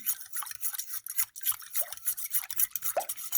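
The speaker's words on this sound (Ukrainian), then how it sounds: "Розбиваємо, гарно молоко поєднуємо із яйцем" Egg and milk being whisked together in a deep bowl, with rapid rhythmic scraping and swishing strokes repeating at a steady pace, close and fairly quiet, with no talking.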